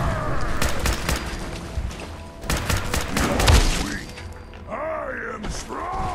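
Gunfire in Fallout 4 combat: a burst of repeated sharp shots with heavy thuds, loud and close, with a talking voice coming in near the end.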